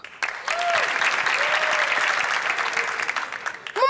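A crowd of people claps steadily for nearly four seconds, dense and close, with a few brief voice tones rising over the applause.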